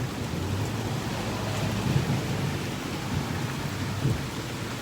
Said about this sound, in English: Some crazy fucking thunder.